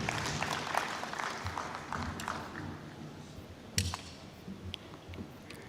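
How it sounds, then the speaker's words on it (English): An audience at an agricultural conference and expo applauds with a spread of scattered clapping that thins out over several seconds, fairly distant and moderately quiet, with a few sharper claps near the end. "A round of applause for him,"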